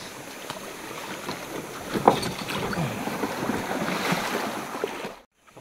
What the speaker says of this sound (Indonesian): pelan-pelan didorong pakai tongkat kecil